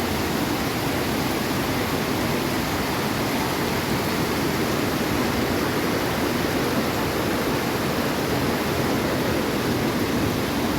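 Heavy water rushing through the Meruoca hills in Ceará during a downpour, a dense, steady roar that fills the whole clip without pause, loud and close.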